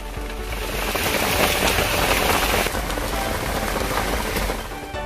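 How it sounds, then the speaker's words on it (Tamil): Heavy night rain pours steadily over the city, a dense, loud hiss of drops drumming on surfaces close by, with no distinct thunderclap standing out. "நகரின் பெரும்பாலான பகுதிகளில் இரண்டாவது நாளாக இரவு நேரத்தில் கனமழை பெய்தது"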